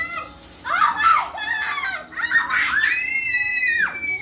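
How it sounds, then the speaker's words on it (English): Children at a party scream shrilly in several loud, overlapping bursts, rising and falling close by, with some excited kid chatter mixed in. "Why are you screaming?"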